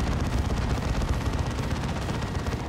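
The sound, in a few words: Assault Cannon Dreadnought firing in video game Dawn of War 2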